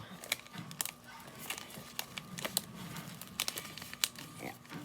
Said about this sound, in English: let's pick out some pretty foils